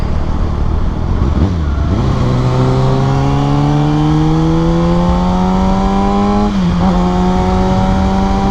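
Gen 4 Chevrolet Camaro accelerates on a road nearby, its engine note climbing steadily in pitch through a gear, briefly dipping at a shift, then continuing loud and close under constant road noise.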